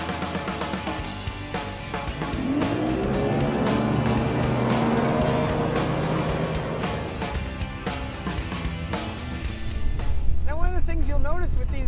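A Premier 250 Solaris PTX pontoon boat runs at speed with a steady low engine drone and water rush, continuous and close, while someone talks over it.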